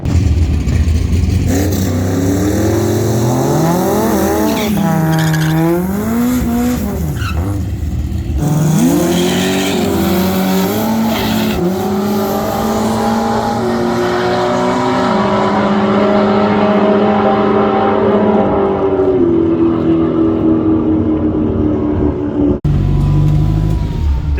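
A drag racing car, an IS200, makes a full-throttle pass, its engine screaming loud and close through rising gear-driven pitch sweeps, dropping briefly on shifts, then holding a sustained high roar before cutting off abruptly near the end.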